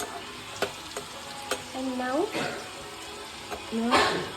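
Small onions fry to brown with curry leaves in hot oil, giving a crackling sizzle with a few sharp pops, while a person talks over the cooking.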